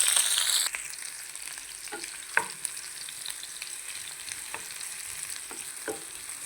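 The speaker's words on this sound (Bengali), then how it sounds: "তেল গরম হয়ে গেছে, পেঁয়াজ দিয়ে দিব।" Onions dropped into hot oil for an aloo bhaji lunch sizzle steadily in a home kitchen, with a loud burst at the start settling into a continuous crackle, broken by a few sharp stirring clinks. No one speaks.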